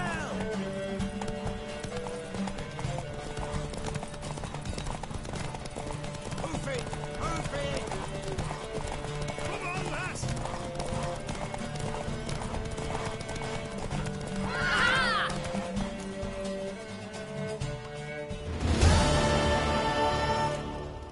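A mare's hooves clip-clop steadily over a long stretch beneath a musical backdrop, building to a loud, close neigh near the end as the whinny rises above the rhythmic hoofbeats.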